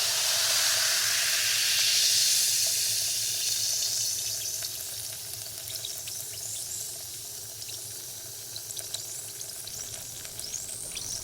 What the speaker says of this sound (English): you can probably still hear that fizzing, right?